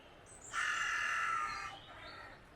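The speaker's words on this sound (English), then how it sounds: "All the birds are coming and eating the bread that people have put out." Crows cawing near a cabin at a forest holiday site where bread has been put out, one loud sustained call rising over quiet background with a fainter call following.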